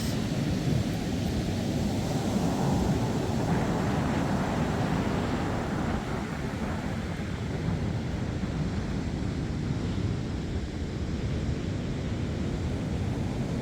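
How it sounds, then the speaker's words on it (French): Strong wind roars across the microphone nonstop on a sandy beach, blending with the broad rush of surf for the whole stretch. "Vous allez entendre le vent aussi"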